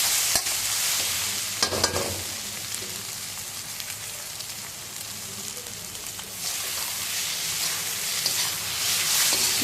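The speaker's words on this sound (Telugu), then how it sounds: "కాస్త మనకి టమోటా కర్రీ బాగా ఫ్రై చేసుకోవాలి మనం." Egg and tomato curry fries in a pan while a utensil stirs and scrapes through it, a loud close hiss of sizzling with brief bursts of scraping, no talking.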